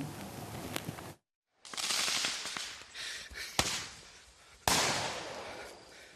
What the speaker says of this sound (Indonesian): Warga terpaksa menyalakan petasan untuk menakut-nakuti induk gajah yang berusaha menyelamatkan bayi gajah yang terjebak dalam kubangan lumpur